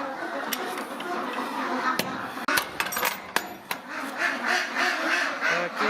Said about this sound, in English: So now we'll go see how the ducks have fared with all this cold.